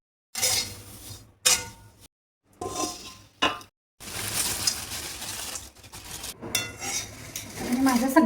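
Whole garam masala spices for Kolhapuri masala dry-roasting in a pan, stirred in short bursts with scraping and clinking of a utensil against metal, separated by brief pauses.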